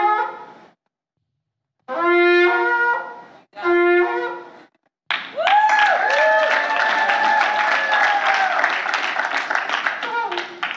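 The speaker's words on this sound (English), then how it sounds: "give a shout. You're the shofar. And clap your hands to the Lord" A congregation at a worship service bursts into sustained clapping and shouting after sung or spoken phrases, the crowd noise loud and continuous for several seconds.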